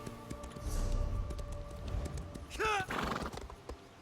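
Horse in the video game Elder Scrolls Online, with rhythmic hoofbeats clopping under low ambient game sound, then one loud, close whinny near the end.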